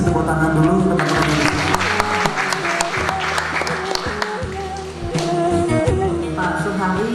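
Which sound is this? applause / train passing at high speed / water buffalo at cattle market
applause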